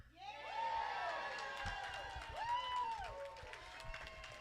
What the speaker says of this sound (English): I need you to cheer loud so we can show the president how much we appreciate him